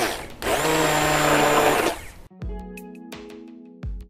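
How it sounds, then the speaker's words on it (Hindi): Hand blender on its lowest setting makes a puree for butter chicken, with a steady motor whir for about a second and a half, then a few sharp clinks and knocks against the container. "ब्लेंडर लिया है, हैंड ब्लेंडर, और उसके बाद हम लोएस्ट सेटिंग पर इसकी प्यूरी तैयार करेंगे"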